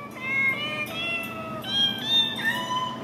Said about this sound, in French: pour faire chanter les chats